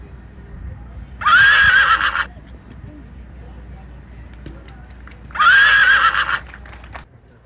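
A horse at a show-jumping event gives two loud, close whinnies, a few seconds apart, with a low background rumble between them.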